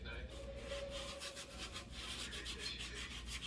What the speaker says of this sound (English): I used a soft rad pad to sand around the edges of the leg